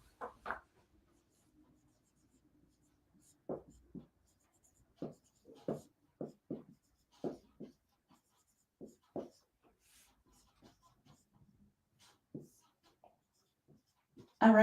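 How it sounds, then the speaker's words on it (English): Handwriting scratches out in short intermittent strokes, faint and close, with long quiet gaps between bursts of pen or marker against a writing surface. "I write too big."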